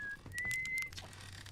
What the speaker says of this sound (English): Was that you whistling?